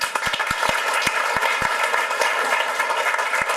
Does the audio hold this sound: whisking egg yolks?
no